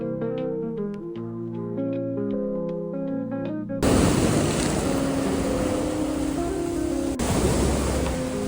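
Waves breaking on the shore in Barcelona, a broad steady wash of surf with wind buffeting the microphone, loud and close, following a stretch of tonal music.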